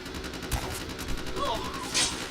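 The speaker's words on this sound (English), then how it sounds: "as you can see by all the gunfire" Gunfire in the action role-playing game Vampire: The Masquerade – Bloodlines, a few sharp shots within a busy mix of game sounds and a distant murmur of voices.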